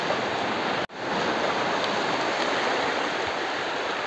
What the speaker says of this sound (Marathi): आता आपण चालू आहोत होडीमध्ये